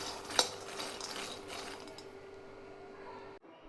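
Peanuts being dry-roasted over low heat in a pan for chutney, with a sharp clink of a utensil against the pan early on, then soft steady scraping and rattling of the nuts as they are stirred.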